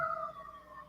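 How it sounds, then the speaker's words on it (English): Emergency vehicle siren wailing in a neighborhood, a steady rising and falling tone at moderate distance, continuous through the moment with no talking. "Who knows what them sirens really about?"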